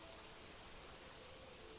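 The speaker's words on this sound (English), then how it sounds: "This beautiful rain." Steady rain falls in the video game Skyrim, a soft, even hiss of drops spread evenly throughout with no voices or other distinct sounds.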